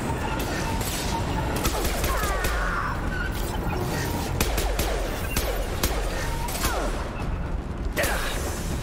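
Mass Effect 2 Legendary Edition combat: a steady clatter of gunfire with repeated sharp shot transients, mechanical clanks and impacts throughout, fairly close and continuous, with a voice occasionally heard in the mix.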